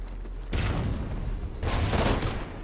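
Gunfire in the multiplayer shooter Call of Duty: Ghosts: two loud bursts of shots, one near the start and a longer one later, separated by a short lull, with no talking.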